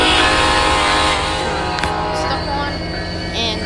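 A Norfolk Southern train in the Roblox game Rails Unlimited gives a loud, continuous rumble with a layered horn-like tone, heard close for a few seconds without a break.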